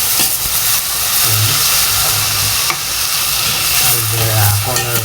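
Chicken pieces fry and get stirred in a hot pan for a home-cooked rice dish, a loud continuous sizzle and hiss with scraping stirs and bursts of steam, close up.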